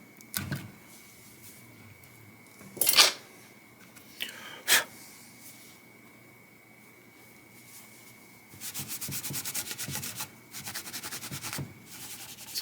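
Metal shavings are rubbed off the fretboard of a Les Paul copy electric guitar, two short brisk scrubbing bursts, then a longer run of steady rubbing strokes near the end, close and fairly quiet.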